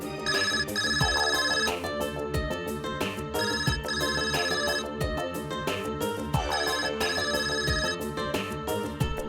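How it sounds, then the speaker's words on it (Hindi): A mobile phone ringtone goes off in a courtroom, a loud melodic electronic tune repeating its phrase in a steady loop with a beat underneath, filling the whole stretch. "किस बदतमीज का ये फोन है? बंद करो उसको।"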